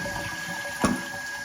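Water hisses and trickles steadily as a toilet tank refills after a flush, a close, continuous flow with one brief gurgling splash.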